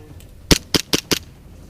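Airsoft guns firing during an outdoor game day, four sharp, close shots in quick, slightly uneven succession over faint background noise; no talking.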